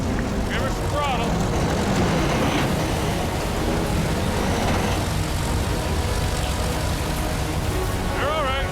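A heavy tow truck engine revs under throttle during a winter wreck recovery on a Canadian highway, a dense, loud rumble that fills the whole stretch while people talk over it.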